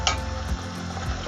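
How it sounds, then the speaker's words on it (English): Oil heating in a pan for gobi aloo on a gas stove gives a steady, close sizzle and crackle with a brief louder spatter at the start, continuous throughout with no talking. "We've just put the gas up again and it's almost ready. We're just waiting for the oil to rise."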